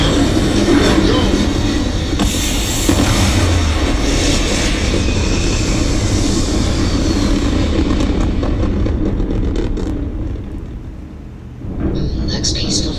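A spaceship lifts off in the game Starfield with a loud, continuous engine roar and rumble that holds steady, dips briefly near the end, then surges back, with a voice talking over it.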